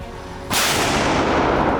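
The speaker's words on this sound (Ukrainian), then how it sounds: "одна з ізюмінок це 155-й калібр. Що як він бахкає, це бахкає." A 155 mm artillery gun fires a single sharp, very loud blast that cuts in abruptly and then rolls into a sustained roaring echo.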